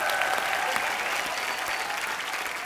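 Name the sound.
studio audience loud applause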